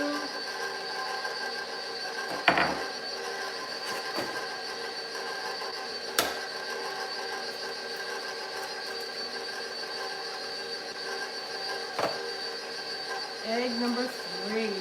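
A stand mixer running on low speed through cake batter while whole eggs go in one at a time, a steady mechanical drone with a few clicks and knocks, and a voice speaking briefly near the end.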